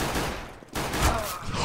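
No-scope shots from an AWP sniper rifle in the video game CS:GO: a short burst of loud game gunfire with a sharp crack about midway.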